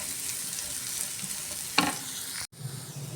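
Onions sizzling as they soften in a pan for pasta, a steady close frying hiss with a brief scrape of stirring and a short break in the sound.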